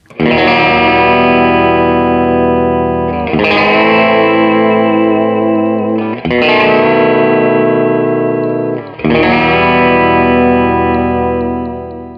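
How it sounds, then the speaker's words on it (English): Distorted electric guitar chords from a Harley Benton MS-60 VW ring out loud and sustained, struck four times in a steady rhythm, each pulsing with a wavering tremolo effect. "we got a cool tremolo system on here, so let's let's hear that."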